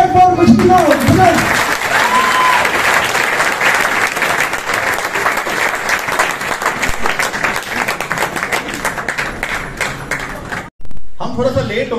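Thunderous applause from a large seminar audience in an auditorium, a dense sustained roar of many hands clapping close and loud, with voices mixed in and a brief break near the end before it resumes.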